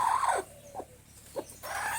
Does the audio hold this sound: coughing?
no